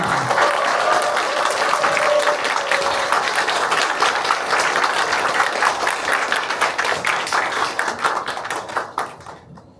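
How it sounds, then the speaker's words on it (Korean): An audience at a talk-show-style performance applauds to welcome Park Geum-cheon, with steady, lively clapping and some cheering for about nine seconds before it fades out. "여러분의 큰 박수와 환호로 박금천 선생님을 모시겠습니다."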